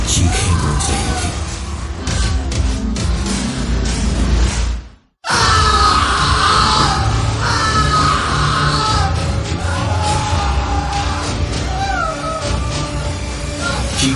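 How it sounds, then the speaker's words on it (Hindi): Echoing screams and pained cries fill a horror audio drama scene, loud and reverberant, with a brief silent break midway before the anguished yelling resumes. "माहौल में बस कौशिक की चीखें गूंज रही थी।"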